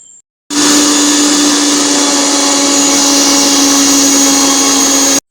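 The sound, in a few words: mixer grinder blending tomato and garlic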